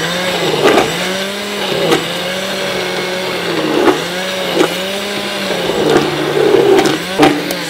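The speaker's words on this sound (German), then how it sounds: "Das ist unser kleiner Zauberstab, den wir jetzt hier reinsetzen und dann dementsprechend pürieren." An immersion blender purees a thick sauce for goose, whirring loudly up and down in pitch in repeated cycles as it is moved through the pot, with occasional splashy surges.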